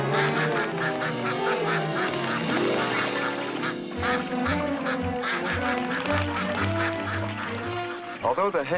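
Mallard ducks quack repeatedly, overlapping with music that plays throughout; a few sharper quacks stand out near the end.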